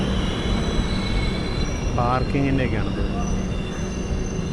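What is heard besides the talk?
22113 Kochuveli Superfast Express train departing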